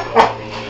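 A puppy being petted lets out a short, close whimper, a single brief whine of under a second with no talking.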